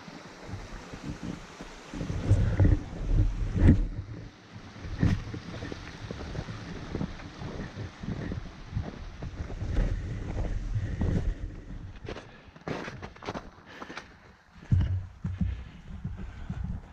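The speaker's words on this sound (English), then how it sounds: "it's nice to listen to the water" A stream flows past a hiking trail on Guata Mountain at a small water crossing, its rushing water a steady broadband wash with a few louder splashing surges, close by, with gusts of wind across the microphone and no talking.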